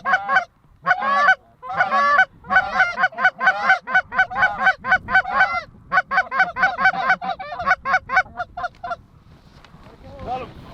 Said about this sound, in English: We got more geese coming off the roost.